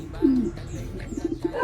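Blue bar pigeons cooing close by, a low throaty coo swelling at the start and followed by several shorter soft coos, with faint chirps in the background and no talking.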